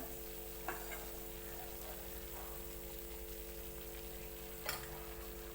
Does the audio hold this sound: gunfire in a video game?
no